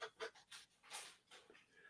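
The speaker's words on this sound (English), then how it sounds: "I can hear my dog" A pet dog pants in quick rhythmic breaths, faint and somewhat distant, with a steady in-and-out pattern and no speech over it.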